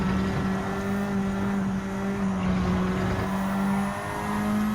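A Lamborghini Huracan Gr.4 race car in Gran Turismo 7 at Suzuka, its engine droning steadily at a near-constant pitch as it eases off, loud and continuous with no talk over it.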